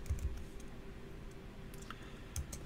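Keystrokes on a computer keyboard, a few soft scattered clicks at a desk, faint and close over a low steady hum with no talking.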